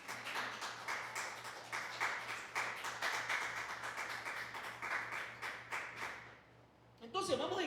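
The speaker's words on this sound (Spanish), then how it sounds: "denle ese aplauso al Señor" A church congregation claps in a quiet, rhythmic, fairly distant patter for several seconds with a faint low hum beneath, then the clapping dies away and a voice starts speaking.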